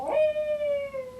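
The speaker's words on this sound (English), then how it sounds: "That's my dog." A single dog lets out one drawn-out howl indoors, a clear tonal wail that starts strong and slowly falls in pitch, close and alone.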